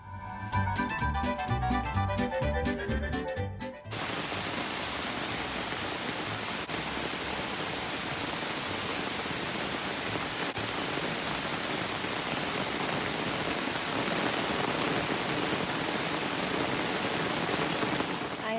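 Steady rain pours down onto a backyard dry creek bed, a dense continuous hiss after a brief burst of other sound at the start; no voices, just constant downpour.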